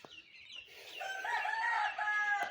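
A rooster on a small Bangladeshi poultry and duck farm crows once, a rising, drawn-out call heard fairly close and clear, with faint farmyard background and no talk.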